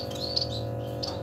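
Zebra finch chicks two to three days old, fostered by Japanese society finches, give high thin chirps in a short burst over a steady low background hum, with no talk.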